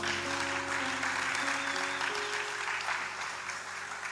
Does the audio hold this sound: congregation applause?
yes